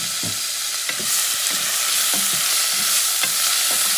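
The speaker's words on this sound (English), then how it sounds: "I'm going to add a little bit of onion, just a little bit." Tomatoes go into a pan of frying onions for a black bean and sausage stew. A bright, steady sizzle runs throughout, broken by a series of soft, regular stirring scrapes up close.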